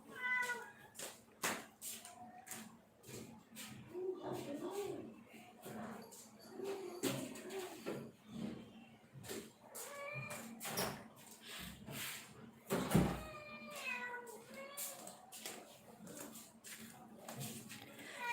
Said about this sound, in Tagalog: Saglit lang nagwawala tong pusa ko, hindi ko alam kung bakit.